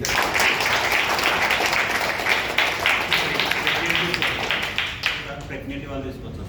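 An audience at a health products talk bursts into applause, a dense rattle of many hands clapping loudly and steadily before tapering off near the end, with a voice speaking over it.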